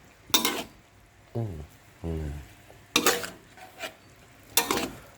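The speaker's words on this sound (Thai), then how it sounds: "คราวนี้เรามีผัดถั่วนะครับ หมูสับนะครับ" Green beans and minced pork stir-fried in a pan, with three sharp bursts of scraping and sizzling spaced a second or more apart. Short vocal sounds come in between the bursts.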